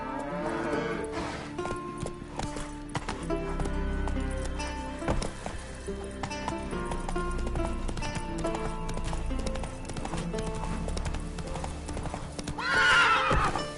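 A horse's hooves clip-clop in a steady trotting rhythm in a video game, with a whinny rising near the end and a busy layer of game sounds underneath.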